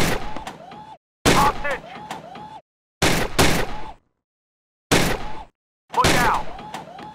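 Gunfire from the VR shooting game Gun Club VR, arriving in five sharp bursts of rapid shots separated by silent gaps, with short game voice callouts mixed in.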